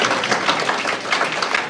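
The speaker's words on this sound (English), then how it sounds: "Let's have a round of applause." A round of applause at a county zoning advisory committee meeting, steady, dense clapping from the crowd filling the room at moderate loudness with no pauses.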